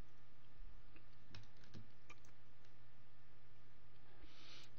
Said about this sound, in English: We'll click the copy button.